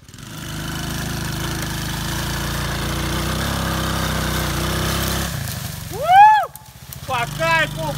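A MOTAX 125cc children's quad bike engine drones steadily, then its note shifts as it heads uphill, followed by excited voices whooping and shouting close by.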